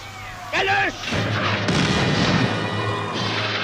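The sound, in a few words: gunfire and shelling in war newsreel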